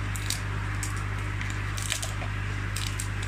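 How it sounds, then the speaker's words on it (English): Dry almond leaves are crumbled and torn apart by hand, making soft, continuous crinkling and crackling with brief crisp bursts throughout, close up and without talk. "we're just going to break them up really quickly"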